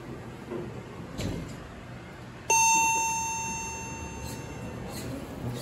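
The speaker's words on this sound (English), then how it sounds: "And since y'all seem to like the chime," A custom fast Montgomery elevator at the Alamodome sounds its arrival chime, one clear bright ding that rings out and slowly decays over a quiet, noisy lobby background, with no talking.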